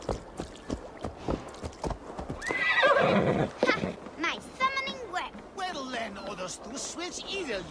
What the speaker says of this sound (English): Your horse is a little unsettled